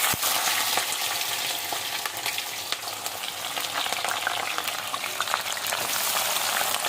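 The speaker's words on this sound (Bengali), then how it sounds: "তেল গরম হয়ে গেছে, এখন দিমু পেঁয়াজ।" Onions frying in hot oil in a karai (wok) with bay leaves, a steady, dense crackling sizzle that stays loud and even throughout, with no talking.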